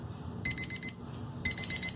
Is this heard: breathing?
no